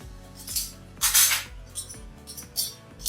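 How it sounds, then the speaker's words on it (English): Metal cutlery clinks and rattles as pieces are picked up and set down while a dining table is being decorated, several sharp close chinks in an uneven rhythm. "for cutlery, I'm using these ones here"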